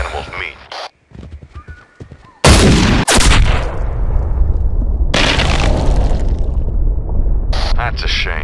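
Hunting rifle shot in Cabela's Big Game Hunter, a sudden loud blast with a rolling echo that fades out, followed by horse hooves and a whinny, with a voice talking before it.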